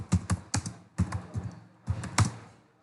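Keystrokes on a computer keyboard as a database query is typed, sounding as close, crisp clicks in short irregular bursts with brief pauses between them, with no voice present.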